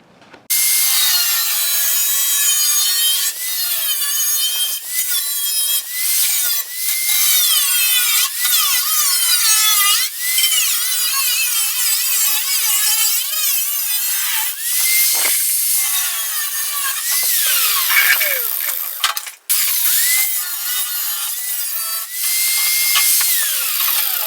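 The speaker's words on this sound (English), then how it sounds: "I'm ready to start cutting." Power tool cutting out the lower fender panel on a Chevy C10, a steady high-pitched grinding screech that runs almost continuously with short breaks and shifts in pitch, close and loud.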